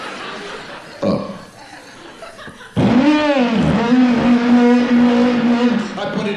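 A voice imitates a car starting up and revving, a rising then sustained buzzing engine drone held for several seconds after a short spoken lead-in.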